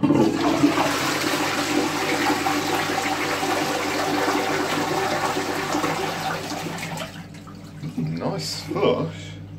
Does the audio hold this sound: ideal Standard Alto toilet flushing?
yes